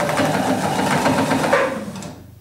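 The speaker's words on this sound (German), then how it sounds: "Und nähe die jetzt runter." A sewing machine stitching down the seam of a child's pointed hat, a steady fast mechanical whir lasting about two seconds before slowing and stopping, with no talking.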